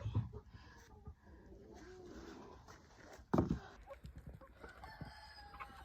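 Chickens cluck and murmur nearby with a brief louder squawk midway, a busy flock sound without talking.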